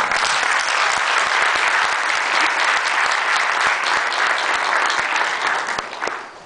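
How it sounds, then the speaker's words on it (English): An audience at a professional gathering applauds a speaker being introduced, a full, continuous roar of many hands clapping at a strong level that carries for several seconds before tapering near the end. "Please give a round of applause for Maha El-Junaidi"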